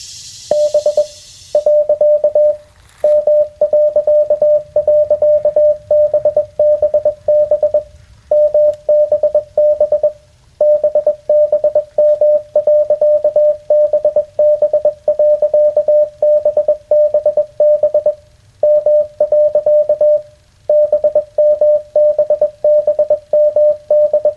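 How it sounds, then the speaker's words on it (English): Loud, steady single-pitch tone keyed on and off in a long run of dots and dashes, with brief gaps between groups, like a Morse transmission. "Morse code test, here we go."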